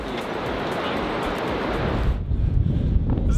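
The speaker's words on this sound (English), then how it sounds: "Wow, look how windy it is out there." Strong gusty wind buffeting a suspension bridge on the Everest Base Camp trek in Nepal, a loud continuous roar of microphone wind noise that turns choppy and blustery toward the end.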